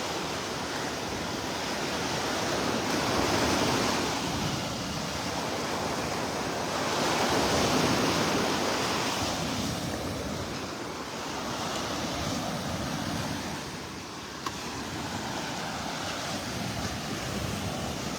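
Ocean waves at high tide break and wash up on a beach, a broad continuous roar that swells and recedes in slow surges, with wind buffeting the microphone.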